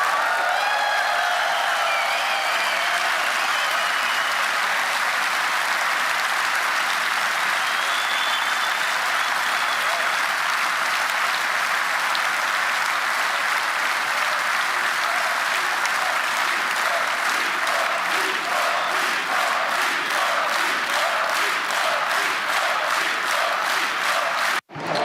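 Large crowd at a political rally applauding and cheering loudly and steadily, with rhythmic clapping building toward a chant near the end.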